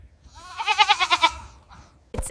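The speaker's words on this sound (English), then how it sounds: "It's a goat." A farm goat bleats once, a loud wavering call lasting about a second, followed by a short sharp thump.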